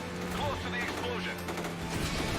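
Bursts of gunfire rattle continuously through a noisy action scene in the video game Stuntman: Ignition, layered over engine rumble and a dense wash of effects, with a voice faintly talking underneath.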